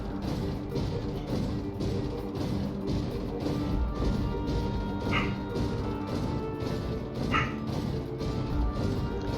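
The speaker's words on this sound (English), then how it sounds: "We've got Cooper barking in the background." A dog barks intermittently in the background over a steady, busy room noise while Final Fantasy XIV is played, with a couple of sharper clatters.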